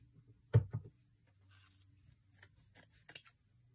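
Scissors cutting fabric for sewing ruffles, heard as a few quiet, close snips with a brief crisp rustle between them in an otherwise quiet room.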